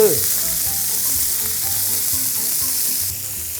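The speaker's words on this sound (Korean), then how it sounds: "이렇게 막 기름에 지글지글." Thin pork slices sizzling loudly in hot oil, a close, steady crackling hiss that fades slightly near the end.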